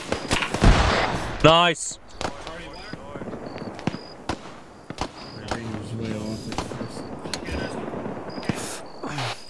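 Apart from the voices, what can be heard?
gunfire in the video game ARMA 3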